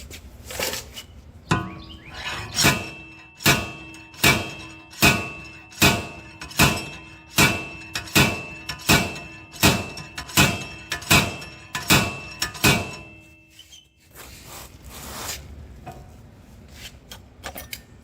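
Metal hammer blows strike the rear wheel hub of a 2016 Honda Civic to knock it loose, about a dozen loud, evenly spaced thuds in a steady rhythm, followed by a few fainter taps.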